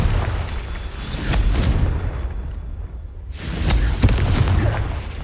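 The Confringo explosion spell goes off in Hogwarts Legacy, a loud, deep boom with a rushing whoosh, then a brief lull before another rumbling blast swells and fades.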